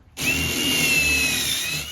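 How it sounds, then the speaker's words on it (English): Power drill boring a pilot hole into a wooden deck joist, starting abruptly with a steady high whine that holds close and loud for nearly two seconds before easing off. "So you drill your hole."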